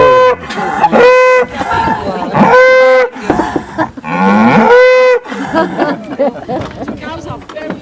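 A herd of Camargue cattle near Arles, France, lowing loudly and repeatedly, several long overlapping moos from close by with people talking among them.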